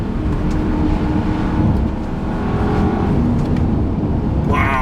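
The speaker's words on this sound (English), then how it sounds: "you put your foot down in the middle of the rev range and you're suddenly going really, really sodding quickly" A 2021 Bentley Flying Spur V8 accelerates hard, with a deep, continuous engine roar and rising revs heard from inside the cabin. Road and wind noise sit underneath, and there is a brief rasping burst at the end.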